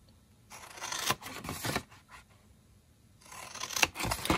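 Paper being snipped with scissors along a box template up to the score line, two bursts of crisp cutting and rustling separated by a quieter pause, close and alone.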